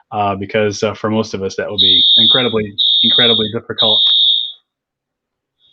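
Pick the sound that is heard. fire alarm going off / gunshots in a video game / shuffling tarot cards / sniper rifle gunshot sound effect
fire alarm going off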